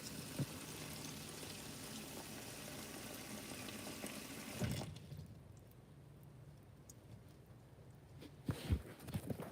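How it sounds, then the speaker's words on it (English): Water pours into the soil of a potted pothos plant in a steady splashing stream that stops midway, followed by a few faint drips and light handling noises. "Just water that real quick."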